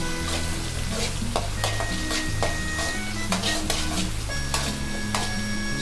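Onions stir-frying on high flame for prawn noodles, a loud steady sizzle broken by repeated scraping strokes of a spatula against the pan, with no talking.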